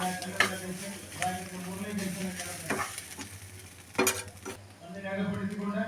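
Rava egg biryani with garam masala is stirred in a hot pan, a spoon scraping and clinking against the metal over a steady soft sizzle.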